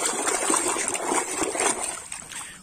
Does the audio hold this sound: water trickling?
yes